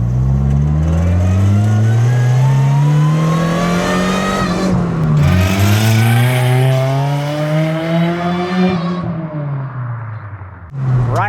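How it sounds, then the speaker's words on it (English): A supercharged 7th-gen Honda Civic with a K24 swap revs repeatedly, the loud engine note sweeping up in pitch, dropping back and rising again before cutting off abruptly near the end, heard close with no talking. "We'll rev it up and see where it occurs."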